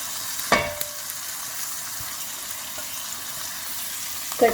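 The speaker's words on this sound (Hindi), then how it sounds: "इसको थोड़ा सा तकरीबन 10 सेकंड तक फ्राई करूंगी ताकि कच्ची ना रह जाए" Salt and paprika spices frying in a pan for peri peri rice, a steady broadband sizzle close by, with a couple of brief clinks from a spoon against the pan, no talk.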